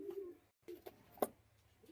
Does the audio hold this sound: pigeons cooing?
yes